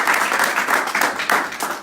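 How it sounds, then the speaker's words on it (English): An audience at a student accommodation investment training event claps in a brief burst of loud, dense applause close by, with no voices over it. "Let's give a big round of applause to Paul as one of our key investors."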